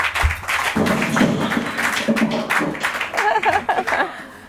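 Repeated hits against a wall during a wall-breaking ceremony for a capital development project, sharp knocks and thuds among clapping and cheering with people talking over them.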